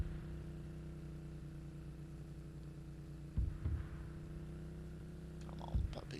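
A vehicle engine runs in ArmA 3 with a steady low idling hum throughout, quiet and even, broken by a couple of brief soft thumps.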